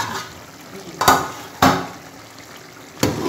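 Mutton curry with spinach sizzles steadily in a pot, with a few sharp scraping stirs of a spoon cutting through the close, constant frying hiss.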